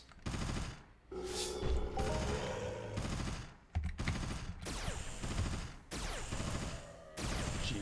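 Rapid bursts of weapon fire in the online game Entropia Universe, during a Halloween event, come in several loud, dense volleys separated by brief pauses, with no voices over them.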